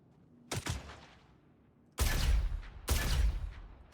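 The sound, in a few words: turret gunfire in video game Star Citizen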